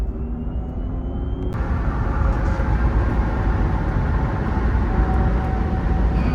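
A 2022 Jeep Wrangler 4xe rolling over a bumpy concrete road, heard from inside as a loud, steady low road and tire rumble with faint rattles throughout and no talking.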